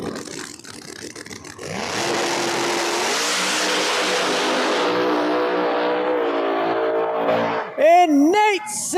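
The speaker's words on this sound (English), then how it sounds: "Nate Taylor's got the car fired up over here." Drag racing car at a Street Outlaws No Prep Kings event, engine fired up and revving loudly for several seconds before a sharp, rising launch burst near the end, with crowd and commentary noise underneath.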